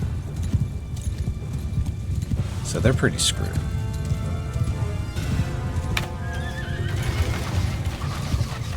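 Horse archers riding in Mount and Blade II: Bannerlord, hooves clip-clopping steadily amid neighs and whinnies, with battle noise and someone talking over the top.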